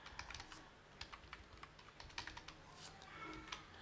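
Rapid clicking keystrokes on a computer keyboard patter in uneven bursts, faint and close, with no voice over them.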